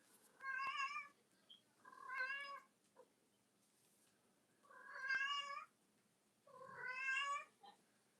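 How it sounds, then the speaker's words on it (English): A cat gives four drawn-out meows, evenly spaced, each a rising and falling cry with a slight caterwauling edge. They sound fairly faint in an otherwise quiet room. "That cat, what's its name?"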